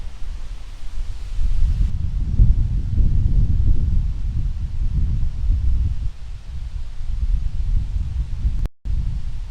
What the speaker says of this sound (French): On a un gros vent de face.